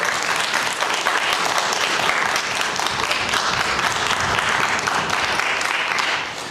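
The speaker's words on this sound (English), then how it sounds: "Please give them a round of applause." An audience applauds ballet dancers at a university wind ensemble and string orchestra concert, a dense and loud sustained clapping that holds steady for several seconds before tapering off at the end.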